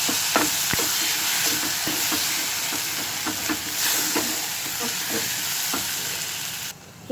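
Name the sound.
tomato frying and being stirred in pan for potato masala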